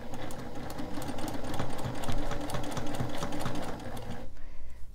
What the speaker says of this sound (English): Just go ahead and stitch it along from corner to corner.